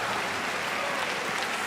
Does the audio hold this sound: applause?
yes